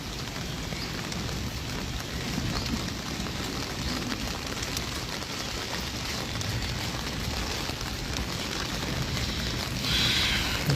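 Torrential rain pours down in Arambagh under a darkened sky, a dense, unbroken roar of heavy drops on surfaces that stays loud and steady throughout, with no voices heard.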